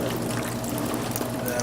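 Cooking juice from cooked meat pours steadily off into a container, a continuous close liquid splashing and trickling with a low background hum.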